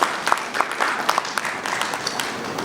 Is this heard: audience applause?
yes